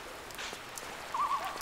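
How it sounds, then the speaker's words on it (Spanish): Steady rain background ambience from a custom fan-made level of the Tomb Raider video game, a soft continuous hiss of falling rain with faint high chirps, quiet and alone without talk. "niveles de autor con efectos de lluvia de fondo"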